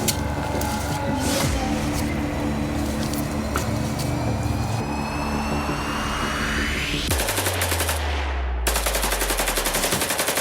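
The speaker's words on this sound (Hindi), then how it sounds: "गोलियों की आवाज सुनाई दे रही होगी क्योंकि इस वक्त जवानों की ट्रेनिंग चल रही है" Gunfire from commando training near a camp in Bastar comes as loud, rapid, repeated reports over a steady background of tones and whines, with no voices.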